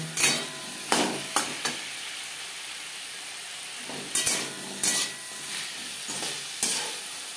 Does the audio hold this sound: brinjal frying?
yes